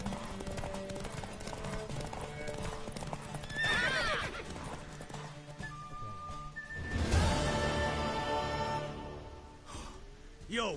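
In The Witcher 3, a horse gallops with rapid clip-clopping hooves and lets out two loud, rising whinnies, one near four seconds and a stronger one around seven, over game music, with a final snort at the end.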